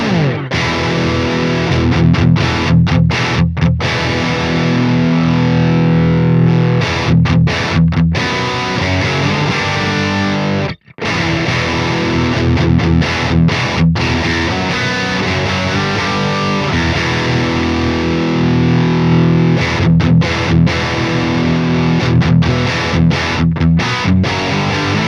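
Distorted heavy metal guitar riffing through the Bogren Digital MLC Sub Zero amp simulator on channel 3, loud and dense with a sharp cut-off near the middle, played alone without talk.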